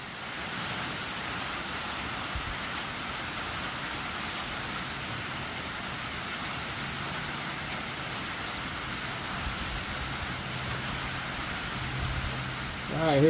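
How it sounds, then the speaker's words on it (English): Rain falls across an outdoor shooting range, a steady, fairly soft hiss with faint low rumbles from something farther off underneath, holding even for several seconds before a slight swell near the end. "And yeah, it's raining."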